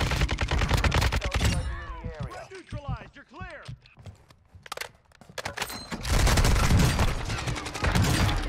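Rapid shotgun pistol blasts in a shooter video game come in dense loud bursts at the start and end, with a quieter stretch of mechanical game sounds between, while a player talks over the action.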